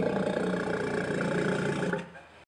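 A close walrus call comes out as a loud, low, throaty roar that holds steady for about two seconds, then cuts off.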